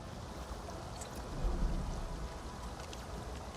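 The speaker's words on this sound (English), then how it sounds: "Oh, waterfall? Very noisy." Waterfall in the Arknights: Endfield game, a steady, fairly faint rushing wash of falling water with no voices.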